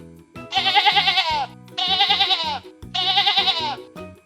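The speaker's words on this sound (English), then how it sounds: "What sound does a sheep make?" Three loud, wavering sheep bleats, each about a second long, sound close up with short pauses between them and no talking.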